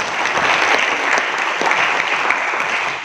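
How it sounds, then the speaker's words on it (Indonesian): Loud, dense applause from an audience at a regional village-officials' working meeting in Kutai Kartanegara, Indonesia, a steady wash of many hands clapping close by, fading slightly at the very end. "tepuk tangan dulu buat saya"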